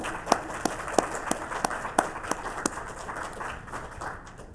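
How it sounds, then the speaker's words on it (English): At an employee-of-the-year awards event, an audience claps for custodial staff. The claps come in a regular rhythm of distinct, moderately close strikes, then thin out and fade over the last second. "Give them a round of applause"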